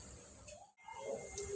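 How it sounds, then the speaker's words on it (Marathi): Cumin seeds hit hot oil for tempering dal, giving a brief, loud, bright sizzling hiss that dips for a moment and then surges again. "जिरा घालूया"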